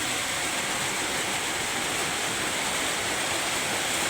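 Heavy rain pours onto a house roof, a dense, constant hiss-roar that stays loud and unbroken the whole time, with no voices.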